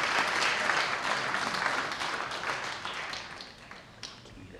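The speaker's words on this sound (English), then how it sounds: "I'll give you one last clap" A church congregation at an Easter Day celebration gives a round of applause, a thick burst of many clapping hands that gradually thins and fades over a few seconds.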